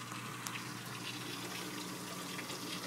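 Protein skimmer in a DIY aquarium sump and refugium, bubbling and gushing as a steady, even wash of running water, with no pauses.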